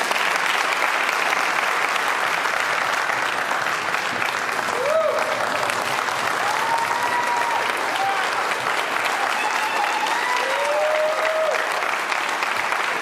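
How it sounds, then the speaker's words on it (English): Sustained, dense applause from a crowd at a police chief change-of-command ceremony in Delray Beach, loud and unbroken throughout, with a few faint whistles rising above it partway through. "Nice round of applause one more time for our 17th Chief"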